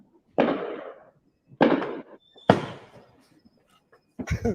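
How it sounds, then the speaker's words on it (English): New Year's Eve fireworks go off in three loud nearby bursts, each a sharp crack fading into a crackling tail, with a fourth blast starting at the end. "I can't even hear you talk on kind of all the fireworks"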